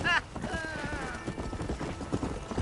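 Horse hooves clip-clop in a steady, fairly close rhythm in the Western video game Red Dead Redemption, under a brief whinny at the start and a voice.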